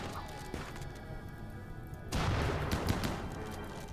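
Gunfire in the colony-management game Rimworld comes as scattered impacts and crashes, growing denser and louder about halfway through, with no speech.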